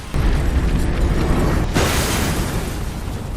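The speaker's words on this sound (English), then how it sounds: "he detonates the bomb remotely, killing several pursuers" A bomb detonated remotely inside a building during an action film scene: a loud, continuous low rumble with a sharp broadband blast bursting in midway, then a slowly fading roar, with no voices.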